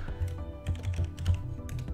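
Computer keyboard keystrokes during After Effects motion graphics work, a brisk uneven run of close, crisp key taps with a few heavier presses, no talking.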